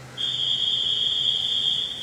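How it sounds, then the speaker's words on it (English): A referee's whistle at a high school swim meet gives one long, steady, piercing blast lasting nearly two seconds, loud and alone over a faint room hum. "The whistle's gone off"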